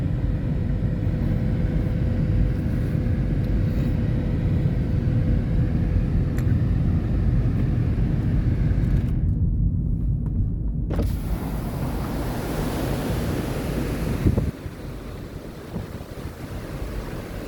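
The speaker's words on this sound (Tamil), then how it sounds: "அந்த அருவியில் இந்த தண்ணி பாருங்க, அந்த பேக்காலில் போய் கொண்டிருக்கு கீழே." Waterfall water rushes steadily down in the Gruyère area of Switzerland, a loud continuous roar with wind buffeting the microphone throughout.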